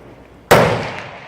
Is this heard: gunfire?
yes